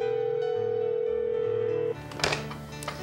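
A telephone rings with a steady tone for about two seconds, then stops and gives way to faint background noise and a few soft clicks, as if the call has been picked up.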